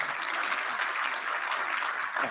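An audience at an education sector conference applauds a speaker, a steady, full clapping that fills the room for a couple of seconds, with no talk over it.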